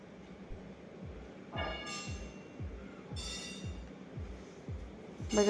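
A train rolls along the tracks with a regular clacking rhythm of wheels over rail joints, with occasional brief squeals and rattles.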